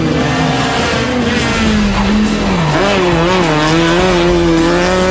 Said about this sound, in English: That's Lemes in his Honda